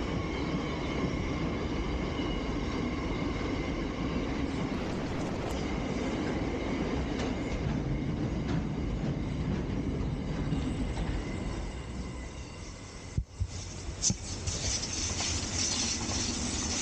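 A train rumbles steadily past on rails somewhere in Australia, a loud, continuous roar with a rhythmic rolling texture lasting about seventeen seconds. It briefly dips and thumps near the end before resuming at full strength.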